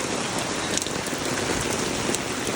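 Heavy rain pours steadily onto a camper and truck at a campground, a dense, even hiss of drops with no break, near and loud.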